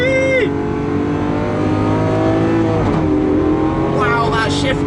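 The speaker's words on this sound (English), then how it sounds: "Wow, that shift noise, the instant sound you get." Lamborghini Aventador SVJ V12 roaring at speed under heavy load, a sustained loud engine drone with a sharp gear shift drop near the middle and a rising rev at the end.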